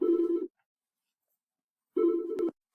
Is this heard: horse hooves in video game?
no